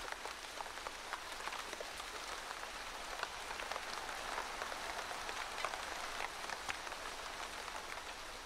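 Steady rain falls in a dense, continuous hiss, with many small drops pattering and ticking close by at an even loudness throughout, and no voices.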